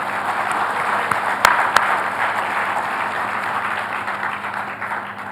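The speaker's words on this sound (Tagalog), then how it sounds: "Palakpak." An audience applauds at a book launch, moderate continuous clapping with a couple of sharp louder claps early on, gradually easing off toward the end.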